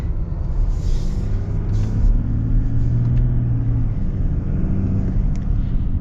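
A pickup truck's inline-six diesel engine pulls hard under acceleration with a deep, loud, steady rumble and rising drone, heard close from the cabin with no talking.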